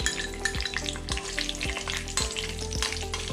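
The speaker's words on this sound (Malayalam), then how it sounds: "നമ്മുടെ നെയ്യ് ചൂടായിട്ടുണ്ട്. ഇതിലോട്ട് നമുക്ക് അണ്ടിപ്പരിപ്പും ഏലക്കായും ഇട്ട് കൊടുക്കാം." Cashews and cardamom pods frying in hot ghee for laddu, a steady close crackling sizzle with a regular low thumping rhythm underneath, no voices.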